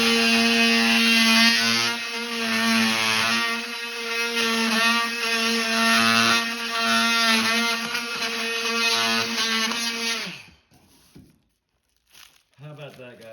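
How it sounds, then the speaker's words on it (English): An oscillating multi-tool cuts through hardwood flooring during a floor installation, a loud, steady buzzing drone running about ten seconds before stopping abruptly, followed by faint handling noises. "we have this awesome Oscillating multi-tool. tool. And we're going to use that bad boy to cut this,"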